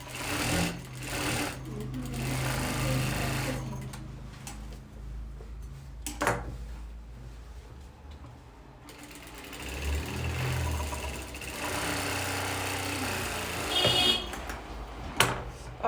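A sewing machine stitches a shawl-neck blouse in a tailoring boutique, running in close, steady whirring bursts separated by short pauses and handling noises.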